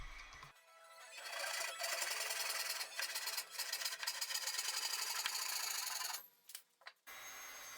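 A walnut board fed through a jointer or planer, a loud dense mechanical whine and cutting rasp lasting several seconds before stopping abruptly, with short bursts of machine noise after.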